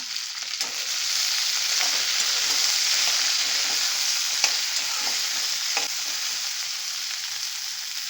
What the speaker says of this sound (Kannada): ಈ ಎಣ್ಣೆಗೆ ಬೆಂಡೆಕಾಯಿ ಹಾಕ್ಕೊಂಬಿಡೋಣ ಬೆಂಡೆಕಾಯಿ ಫ್ರೈ ಮಾಡ್ಕೊಳ್ಳೋಣ